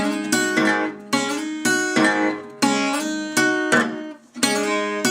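An acoustic guitar plays a blues riff, sharp plucked attacks in a repeating pattern with the open fifth string droning for timing, close and loud without speech.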